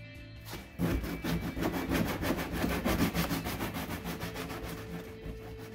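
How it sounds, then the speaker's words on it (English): 100-grit sandpaper rubbed briskly back and forth to smooth a cut during a Club Car DS golf cart lift kit install, a steady rhythmic scratching of quick strokes, close and continuous for several seconds. "Now I got some 100 grit sandpaper. Just gonna clean up the cut a little bit."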